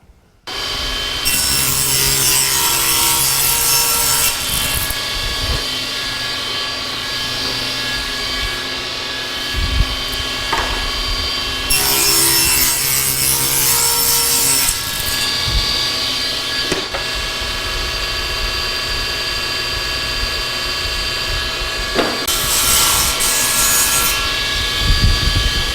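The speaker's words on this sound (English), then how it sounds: "I can cut them to the final length, and that's 14 inches for these ones" A saw cuts wooden tray pieces to a 14-inch length with a loud, steady whine. Several cuts rise and fall over a constant motor drone.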